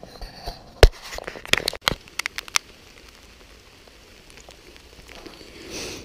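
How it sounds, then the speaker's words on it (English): Rain falling on a bivvy tent and tarp while stealth camping, a soft steady patter with a handful of louder sharp drops tapping close by early on. "started to rain,"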